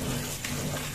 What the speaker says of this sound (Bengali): লাউ আর সবজি ধুয়ে নিলাম